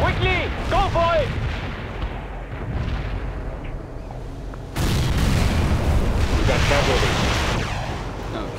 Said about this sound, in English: We need artillery now.